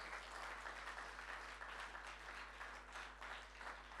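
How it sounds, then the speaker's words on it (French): A church congregation applauds during a French-language sermon, a dense, steady wash of many hands clapping that holds at an even level for the whole stretch, heard somewhat distant and soft. "Est-ce qu'on peut applaudir pour ce Jésus qui est extraordinaire?"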